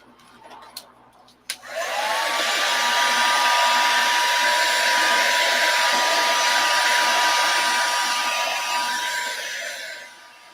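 Hair dryer switched on after a couple of faint knocks, blowing with a loud, steady high-pitched whirring hum for about eight seconds before winding down.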